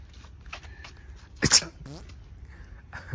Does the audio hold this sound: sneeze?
yes